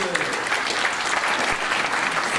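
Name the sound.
applause for Marcel at a New Year ceremony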